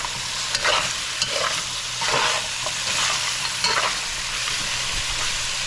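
Lamb pepperpot stirred in a pot as it starts catching at the bottom, a loud continuous sizzle with rhythmic scraping strokes every second or so, close and without talk.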